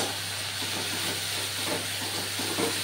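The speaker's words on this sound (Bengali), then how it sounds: "এবার একটু কষি, একটু কষার পর আবার আসছি।" Chili and garlic paste sizzles in a pan for duck egg curry, giving a steady, even hiss with a faint low hum underneath.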